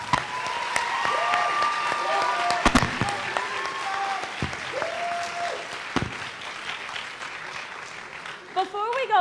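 Applause from the audience for candidates' parents at a high school coronation ceremony, a fairly steady clapping bed with sharp knocks and thumps and some tonal whistling or squeaking mixed in, while voices are heard toward the end.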